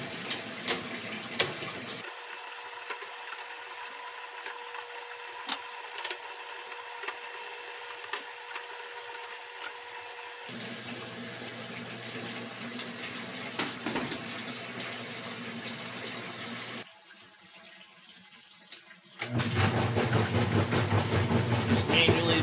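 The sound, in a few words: washing machine filling with water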